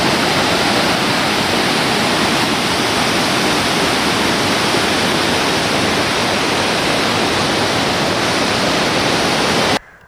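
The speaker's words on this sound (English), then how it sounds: "It was a pretty waterfall, and it looked tame, but it was really slippery, actually." A waterfall pours steadily in a dense, loud, unbroken rush of white water that cuts off abruptly at the end.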